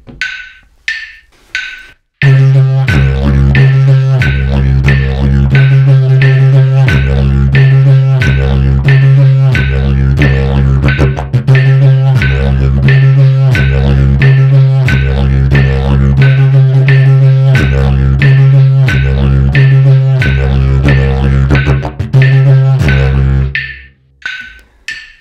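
Didgeridoo plays a steady dum dum takawaka rhythm, a continuous low drone punctuated by toot accents and rhythmic pulses, loud and close, played alone for over twenty seconds.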